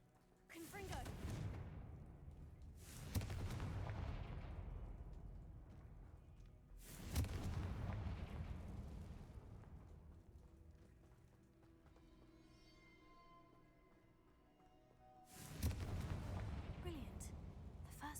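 Repeated explosive blasts from the Confringo fire spell in Hogwarts Legacy, three heavy booming bursts spaced several seconds apart, each decaying into a rumbling tail, with game ambience and a voice talking in between.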